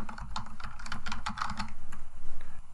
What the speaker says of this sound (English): I'll go ahead and type in